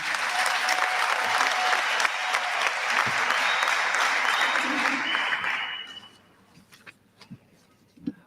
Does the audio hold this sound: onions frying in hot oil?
no